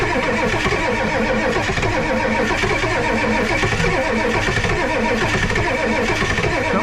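A 7.3 Power Stroke diesel engine cranks over in extreme cold, minus 43°F, a loud, steady, rhythmic starter churn close up that continues without catching for the whole stretch.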